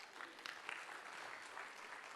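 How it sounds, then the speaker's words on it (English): Applause from a conference audience at a PMI Annual Conference talk, a steady, fairly faint wash of clapping held evenly for about two seconds with no voices over it. "let's give him a big round of applause."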